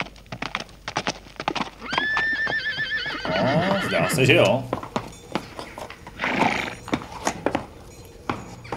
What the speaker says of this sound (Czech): Jsme vlastně posledně získali koně, to je teď slyšet.